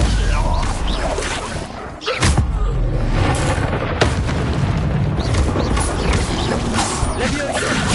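A Stupefy spell goes off in Hogwarts Legacy amid a dense, continuous wash of game effects, with sharp crackling bursts near two and four seconds standing out over the loud, busy mix.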